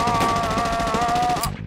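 Gunfire from a gun rattles in a fast, loud burst of rapid shots, then cuts off abruptly.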